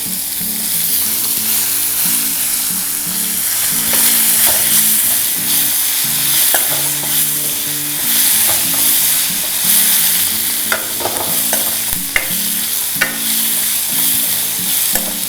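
Chopped onions sizzle steadily in hot tempering oil for a drumstick flower stir-fry, a loud, continuous crackle broken by the scrape and clack of a stirring spoon against the pan, with no voices.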